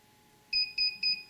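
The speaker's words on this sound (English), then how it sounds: "Should hear a beep beep in a second." Three short electronic beeps in an even rhythm, high-pitched and clear over a faint steady hum, from a fibre optic termination machine.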